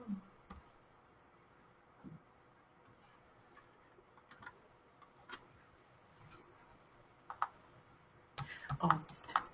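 Sparse, faint keystrokes on a computer keyboard during a live online session, scattered clicks over a quiet room that build into a quicker burst of typing at the end.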